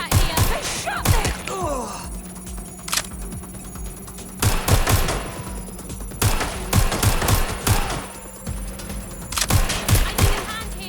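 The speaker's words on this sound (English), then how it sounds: "They're shooting! Getting shot at here! They shot them!" Video game gunfire in Watch Dogs: Legion, with sharp gunshots and rapid bursts in irregular clusters, loud and close, under shouted voices.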